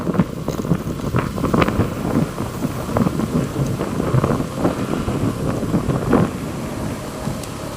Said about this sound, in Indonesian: Anginnya lumayan kencang.